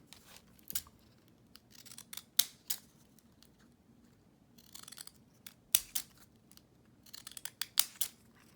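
Scissors snip through paper while a shabby lace folio is being trimmed, giving a run of close, crisp cuts in irregular bursts with short pauses between them and no talking.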